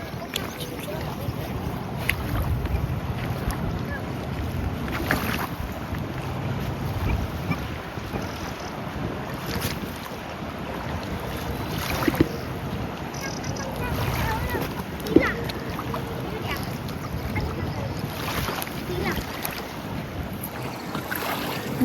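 Waves and rushing water on the Indus River slosh and churn steadily, with gusts of wind buffeting the microphone and a few knocks, continuous and fairly close throughout.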